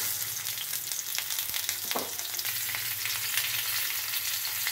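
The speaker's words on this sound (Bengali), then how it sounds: "এবার আমি পটলগুলোকে খুব কম ফ্লেমে আস্তে আস্তে করে ভাজতে থাকবো" Pointed gourds sizzle gently in mustard oil in a kadai over a low flame, a continuous soft crackling hiss with a few faint clinks of stirring, close and free of speech.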